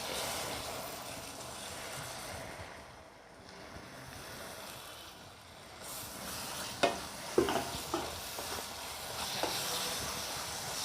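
Chopped tomatoes frying and being stirred in a pan for a spicy chicken curry, a steady close sizzle with a few clacking scrapes of the spoon near the end.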